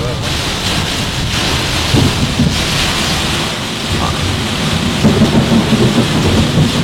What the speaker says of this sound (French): une avalanche de coups de foudre proches, accompagnée de coups de tonnerre